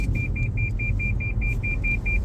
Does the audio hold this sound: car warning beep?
yes